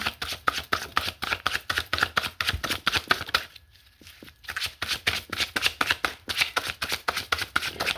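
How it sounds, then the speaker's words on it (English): Rapid rhythmic riffling of cards being shuffled, repeated flicking bursts with a brief pause midway before the shuffling resumes. "sometimes when I'm shuffling these cards"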